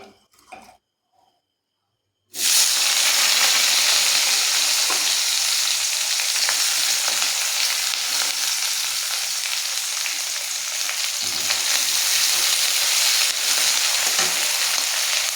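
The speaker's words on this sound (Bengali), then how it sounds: "তেল গরম হয়ে গেছে, এবার পেঁয়াজ কুচি দিয়ে দিচ্ছি।" Chopped onions hit hot oil for a fish curry: after a few quiet seconds and small knocks, a loud, sudden, sustained sizzle that stays strong and steady to the end.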